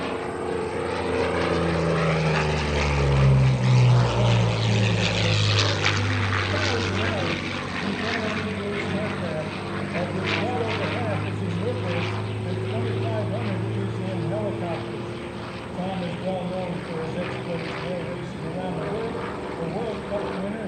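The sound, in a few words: P-40 Warhawk propeller aircraft flying at an airshow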